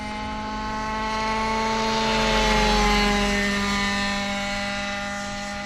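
A Mongoose model helicopter whines overhead at an RC field with steady rotor hum and high tonal motor harmonics, growing louder as it passes close, then easing off slightly.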